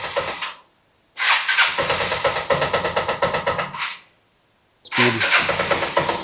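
Engine of a 1984 Yamaha Riva 180 scooter that starts only with difficulty: a loud, close burst of firing that dies out, a second longer run of rough pulsing that stops, then another restart. A brief spoken word is heard.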